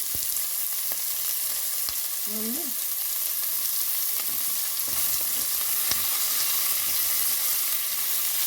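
Green chillies frying in hot oil for gongura paneer biryani: a loud, continuous sizzle and crackle with a few faint clicks of stirring, steady throughout with no talking.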